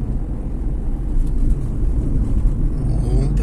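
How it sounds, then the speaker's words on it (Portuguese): Heavy rumble of a truck on a city street in Pará, Brazil, a loaded motorcycle carrier idling and moving with a steady low roar, with someone speaking over it. "Olha aqui o caminhão que vai descarregar motos."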